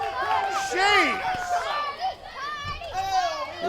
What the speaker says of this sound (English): Listen to this crowd react to Party McFly